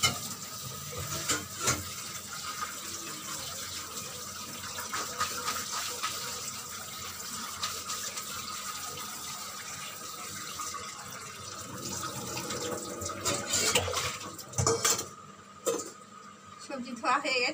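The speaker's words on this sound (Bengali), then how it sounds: "আমি সবজিগুলো ধুয়ে নিই।" Tap water runs over vegetables being rinsed in a kitchen sink, a steady splashing gush with clattering of pieces and a vessel, while someone talks intermittently over it.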